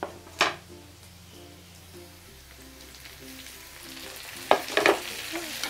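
Onions and tomatoes frying in a pan for hotel-style palak paneer, a steady soft sizzle with a couple of sharp scraping or stirring knocks near the start and end.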